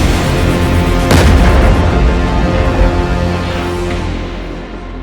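A single loud New Year's Eve firework blast booms close by, then a long rumbling, crackling tail slowly fades away over several seconds.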